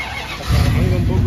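A truck engine fires up, now fitted with a side exit exhaust, chrome tips and a muffler delete, giving a loud, deep rumble that jumps up halfway through and then holds steady close by.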